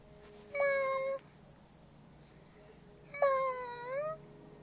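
A house cat meows twice, each call drawn out for about half a second to a second, fairly close and clear, with a quiet pause between the two calls.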